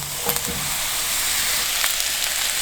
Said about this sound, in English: Hot pan with olive oil. I'm gonna put all these mushrooms in at the same time.